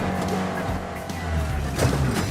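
Truck driven hard on the sand dunes at Glamis, its engine roaring and revving loudly, with tire and skid noise rising and falling as it tears across the sand.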